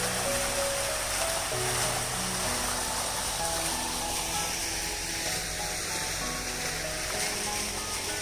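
A waterfall at the Taj Aravali Resort in Udaipur, beside the spot where wedding ceremonies are held, gives a constant, dense rushing roar with a faint steady hum beneath, even and unbroken throughout.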